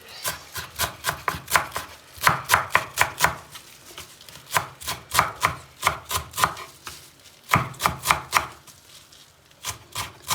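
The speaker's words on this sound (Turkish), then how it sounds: "Şimdi bütün malzemelerimizi bu şekilde doğrayacağız ince ince." A knife finely chops parsley and greens on a cutting board in quick bursts of sharp taps, with brief pauses between runs, close and clear, no talking.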